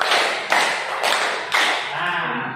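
Indonesian classroom pupils clap together in a counted pattern, a few loud unison claps spaced about half a second apart, with a voice audible in the background.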